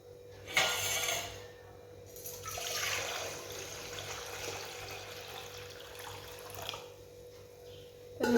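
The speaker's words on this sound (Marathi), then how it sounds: "आता हे सगळे देव जे आहेत ते स्वच्छ धुवून घेते" Water pours and splashes in a home prayer space while brass idols are rinsed clean for the daily puja, with a steady running flow and brief louder bursts at the start and end.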